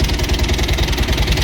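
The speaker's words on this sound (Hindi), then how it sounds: "इंजन बनाने के बाद देखिए ये गाड़ी में एक तरह का साउंड आ रहा है।" A Bajaj Pulsar 220 motorcycle engine, recently rebuilt and making an abnormal noise, runs close up with a loud, steady low throb and a rapid rhythmic knocking pulse, with no speech over it.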